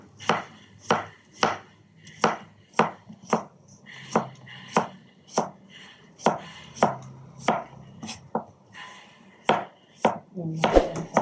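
A knife chops cucumbers on a cutting board for a Filipino salad, sharp evenly spaced thwacks, about twenty in a steady rhythm, close up and alone without talk.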